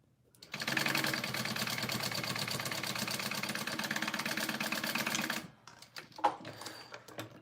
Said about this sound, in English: now we just want to sew on the sides, and we're doing a 3/8 seam allowance.